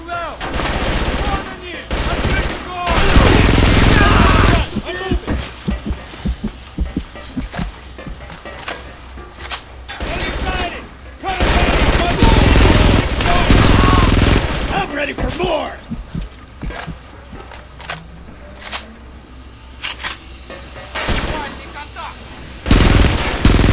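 Video game gunfire in Frontlines: Fuel of War erupts in loud bursts of automatic rifle and machine-gun fire with heavy booms, broken by short pauses and distant shots across a battlefield.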